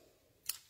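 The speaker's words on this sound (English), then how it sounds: "So I'll grab my scissors." Scissors snip linen thread in a single faint, crisp cut, isolated against a quiet background.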